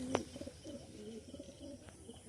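Pigeons kept at a friend's home loft coo in low, soft bursts, one sharp call near the start and then a run of repeated murmuring coos close by, with no talk.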